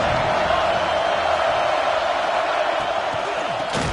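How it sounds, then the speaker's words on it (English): A packed Georgia football stadium crowd makes a loud, steady roar of cheering and noise, a continuous wash of sound with no distinct voices standing out. "This crowd bringing the energy and noise early."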